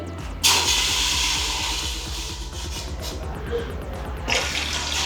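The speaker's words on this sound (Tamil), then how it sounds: "ஒரு 3/4 லிட்டர் தண்ணி ஊற்றிக்கலாம்." About three-quarters of a litre of water poured into a pot while making a mushroom and raw-rice-flour preparation, a steady broad rushing splash that runs almost the full length at close range, with no talk over it.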